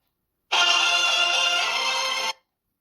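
A phone ringtone plays loud and close for about two seconds, a steady bright electronic tone that starts and stops abruptly with no talk over it.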